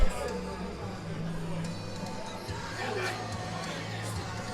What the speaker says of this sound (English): The crowd's getting behind him here.